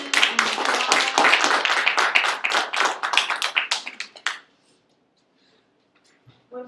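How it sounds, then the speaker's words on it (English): Brisk applause from a small audience after a tribute speech: dense, close clapping for about four seconds that thins out and stops abruptly, followed by near silence with a faint stray noise. "your attention and applause"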